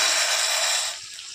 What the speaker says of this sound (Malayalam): നമുക്കിതിലേക്ക് 1 ഗ്ലാസോളം വെള്ളം ചേർത്ത് കൊടുക്കാം.